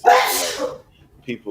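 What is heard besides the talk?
sneeze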